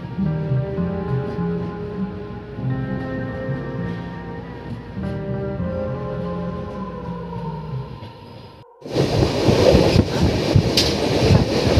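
Avadh Assam Express passenger train, heard as a steady rumble with droning tonal hums for most of the stretch, then a sudden louder, harsher burst of broadband rushing noise near the end.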